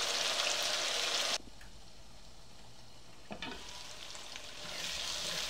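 Chopped tomatoes frying in a pan: a bright sizzle cuts off abruptly as the lid goes on, leaving a muffled hush, then a clatter and the hiss swells back as the pan is stirred.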